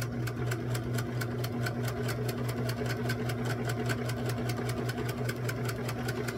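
A sewing machine stitches a mini kite quilt a quarter inch beside a center line, a steady fast mechanical chatter with a motor hum running continuously and close, with no talking.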